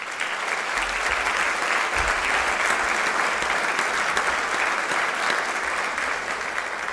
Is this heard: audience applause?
yes